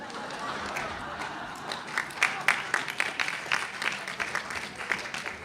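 An audience at an award ceremony applauds, a steady patter of many hands clapping that builds and holds in a hall, with a voice talking faintly underneath.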